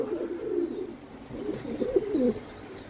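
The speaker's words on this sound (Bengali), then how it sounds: "আর কবুতরটা অ্যাক্টিভিটি দেখেন, আর ফুল ফ্রেশ।" Repeated low cooing from a black-less satinette fancy pigeon, a male bird offered for sale, in several close, throaty phrases with short pauses between them and no talk over them.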